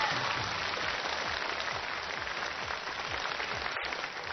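A TV game show studio audience gives continuous, even applause that stays at a steady, moderate level from start to finish.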